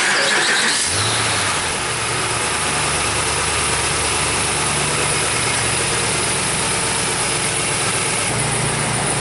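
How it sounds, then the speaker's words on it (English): A Hemi Dodge Ram truck engine with newly installed exhaust manifolds cranks and catches, then settles into a steady, loud idle with a low rumble and a faint belt squeal, continuing without any talk. "the next thing we gotta do is just fire it up real quick, have a listen"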